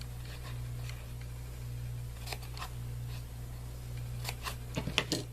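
Scissors make several brief, quiet snips through craft foam pieces for a foam basket, clustered near the end over a steady low hum with no talk.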